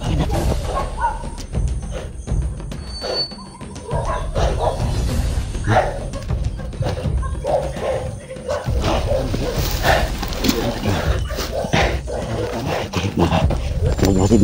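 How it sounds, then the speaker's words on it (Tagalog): Dog barking repeatedly amid a noisy outdoor setting, barks scattered through a rough, continuous background with some voices in the mix. "May aso dito bro."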